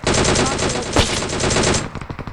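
Automatic gunfire from the video game PUBG Mobile rattles out in one dense, loud, rapid burst lasting about two seconds, with a sharp crack near the middle, then cuts off into fading echoes.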